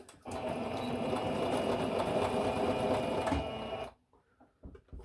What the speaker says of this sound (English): So, put the footer down and sew away.